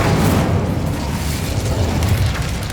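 Incendio fire spell blast in Hogwarts Legacy, a loud, sustained low rumbling roar that holds steady throughout with no voices on top.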